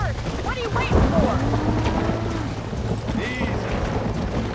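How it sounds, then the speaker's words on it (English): Thunderstorm in Red Dead Redemption on a ranch, with a deep rolling thunder rumble and steady rain and wind noise, while whistles and shouts rise over the storm. "The storm's getting worse."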